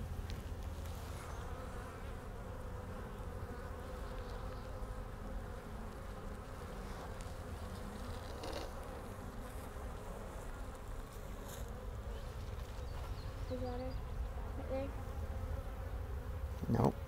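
Honey bees swarm and buzz steadily around an opened hive during a spring inspection, a dense continuous drone close by with a brief louder knock near the end.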